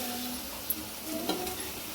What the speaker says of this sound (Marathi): फोडणीतच मी शिजवलेली डाळ टाकून घेतली आहे आता याला छान परतून घ्यायचं आहे